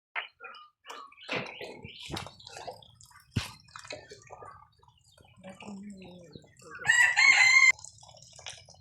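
Chickens and a rooster on a tea estate cluck and chatter in scattered short calls, with a louder, sustained crow-like burst near the end, heard close against a quiet background and no speech.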